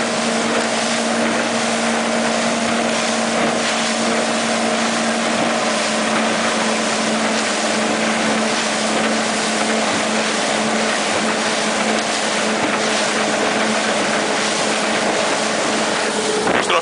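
A 2015 Evinrude 115 E-TEC outboard motor drives a 2004 Victor 4.85 RIB at about 3,200 rpm, a loud, steady engine drone with a constant tonal whine, mixed with wind buffeting and water rush throughout.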